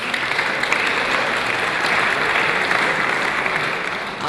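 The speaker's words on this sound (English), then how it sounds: "Please give an applause for Zack and Erin." An audience at the BruCON security conference applauds the speakers Zack and Erin with steady, dense clapping from a sizable crowd that holds level for several seconds before easing slightly.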